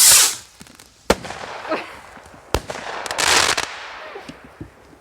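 New Year's Eve fireworks rockets launching outdoors: a fading whoosh opens, followed by several sharp cracking bangs and hissing bursts, with scattered distant pops continuing throughout.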